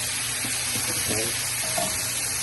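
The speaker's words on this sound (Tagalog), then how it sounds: "habang niluluto natin yung ating bawang at saka sibuyas, yan, kamatis" Garlic, onion and tomato frying in a pan with tofu and fishball for a meatless dish, a soft steady sizzle with faint stirring scrapes, heard alone at moderate level.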